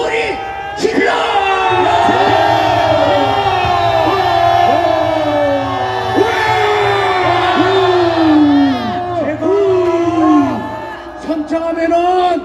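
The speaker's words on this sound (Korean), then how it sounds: "다 같이 함성 5초 소리 질러!" A large crowd at a Korean political rally shouts and cheers in sustained unison roars, with rising and falling yells layered over a steady low drone, loud and continuous for about ten seconds.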